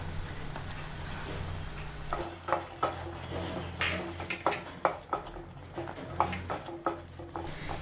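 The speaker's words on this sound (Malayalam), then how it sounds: "ഇതും കൂടി ഇട്ട് നമുക്ക് നന്നായിട്ടൊന്ന് ഇളക്കി യോജിപ്പിച്ച് കൊടുക്കാം" Chopped almonds stirred into a thickening mixture in a pan for a wheat flour and banana snack: repeated scraping strokes with light clinks, close and fairly quiet.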